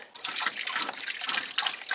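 Water from an RPS solar pump splashes into a bucket, an uneven pouring and splattering flow that rises and dips in bursts, fairly close and alone.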